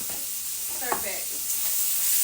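Bacon sizzles in a pan with a short, steady hiss, and a voice briefly sounds partway through.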